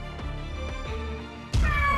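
A long-rescued, wary house cat gives a few drawn-out meows, close and fairly loud, ending in a sudden sharper, louder yowl.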